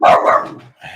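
A dog barks loudly and close by in a quick burst, a short pause, then another bark, with no talk.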